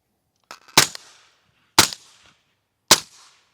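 An 11-inch 5.56 rifle with a suppressor firing 208 grain FMJ at a range, three sharp muffled cracks spaced about a second apart, each with a brief fading tail, close and loud.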